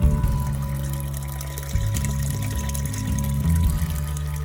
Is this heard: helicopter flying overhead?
no